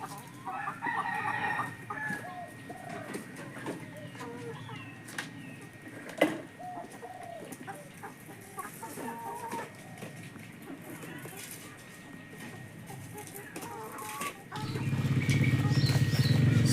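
Backyard chickens clucking and cackling close by, a rooster crowing once near the middle, with a person talking intermittently over the birds and a louder low rumble rising at the end.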